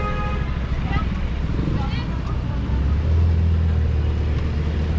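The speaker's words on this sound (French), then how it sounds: "La F8 qui part." A Ferrari F8 pulls away with its exhaust valves closed, a low muffled engine rumble rising as it accelerates, with the deepest growl building near the end amid street ambience.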